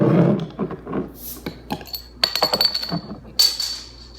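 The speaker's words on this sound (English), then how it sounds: "Let's go ahead and crack the top and see what we got." A bottle opener pries the cap off a bottle of Great Lakes Brewing Conway's Irish Ale, giving a few sharp metallic clicks and clinks that stand alone, close and fairly quiet.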